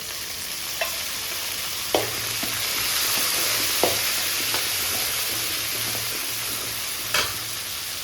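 Small onions and garlic sauté in a pan for a Tamil tamarind curry, hissing in a steady, soft sizzle while a utensil scrapes and clicks against the pan at irregular intervals.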